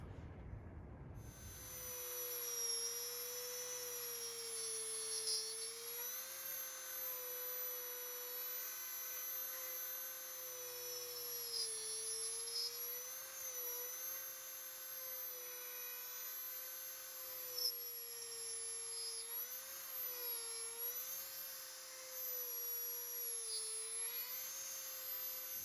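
A high-pitched rotary tool bit whines steadily as it carves under the toes of a wooden owl sculpture to separate them from the base, its pitch wavering slightly with load, close and continuous for over twenty seconds.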